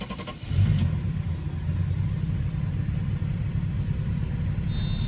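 A 2005 Ford Mustang GT V8 settling into a steady, deep idle rumble after a short start-up burst, heard up close with no talking.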